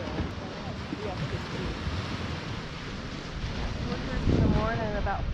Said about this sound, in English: all night long, sound of waves.